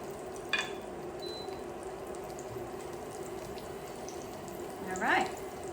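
Battered Korean jeon pieces sizzle in a hot frying pan, a continuous crackling fry with a couple of brief clinks and splashes near the start and end.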